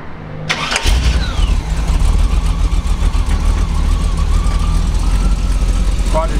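1949 Chevrolet 5700 COE truck with a Quadrajet four-barrel carburetor fires up after a short crank, catching with a sharp burst and settling into a loud, rumbling idle close by.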